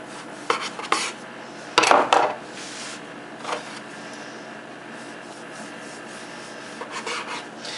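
Bread dough for Amish-style dinner rolls is cut into pieces on a board, giving a few scraping, rubbing cuts near the start and one louder rasping cut at around two seconds, then quiet with faint light scrapes.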